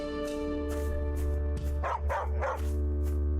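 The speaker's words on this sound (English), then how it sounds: "Bark, bark, bark." Dog barking in the video game The Adventures of Van Helsing, three loud barks in quick succession over a steady droning game soundtrack.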